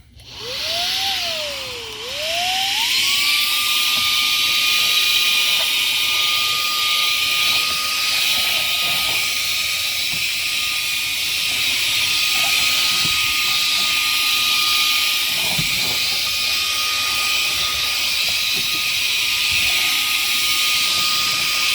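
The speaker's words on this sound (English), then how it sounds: "Very impressed with high speed on the suction on that." A GeeMo G201 cordless 4-in-1 vacuum cleaner sucks up sawdust and debris from a workbench, its motor rising in pitch as it spins up, then holding a steady loud high whine with airflow hiss throughout, no talking.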